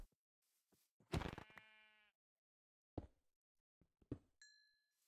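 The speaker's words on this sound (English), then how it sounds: "Oh, gray sheep." Sheep in the Minecraft video game give a single clear bleat, a wavering, harmonic-rich cry lasting about a second, followed by sparse game clicks and clinks and a short tonal chime near the end.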